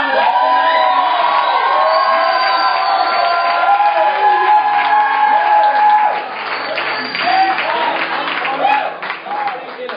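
A church congregation at a worship gathering cheers, whoops and applauds in a loud, sustained crowd roar that eases slightly past the midpoint, with scattered shouts rising near the end.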